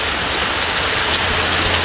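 Dense, loud rush of heavy rain pouring down steadily and close, with no voices.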